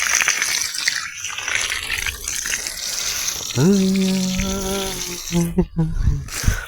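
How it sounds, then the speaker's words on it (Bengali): Water runs steadily while a field of red amaranth is watered, a broad gushing flow with a voice briefly talking over it midway. "পানি দেওয়া আজকের মতো এখানেই শেষ"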